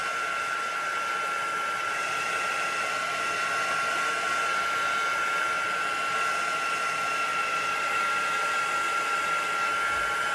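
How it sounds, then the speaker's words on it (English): A heat tool blows a steady, loud, even whirring hiss with a high whine while drying a paper envelope made from book pages, running unbroken throughout with no talking. "I will dry it with the heat tool"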